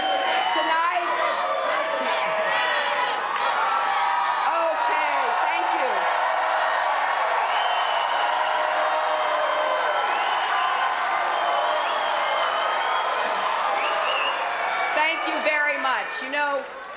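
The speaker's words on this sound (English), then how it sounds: "Looks like she's getting ready to do so as they cheer her on." A large crowd of supporters at a Hillary Clinton rally in New York City cheers and whoops loudly and continuously, with scattered clapping and shouts throughout.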